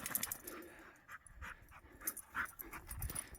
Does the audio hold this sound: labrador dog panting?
yes